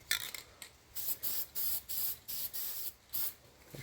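Short bursts of aerosol gasket spray hiss in quick succession, about eight sprays, close and fairly quiet, applied to a gasket during a turbo install.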